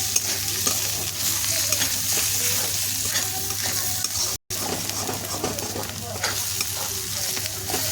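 A red spice paste stir-fries in a hot pan, with a constant sizzle broken by repeated scraping strokes of a spatula, close and fairly loud, briefly cutting out for an instant partway through.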